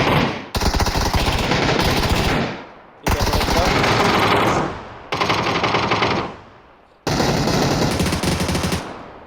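Heavy automatic gunfire from a PUBG esports final, sustained loud bursts separated by brief pauses, with commentary talk running underneath.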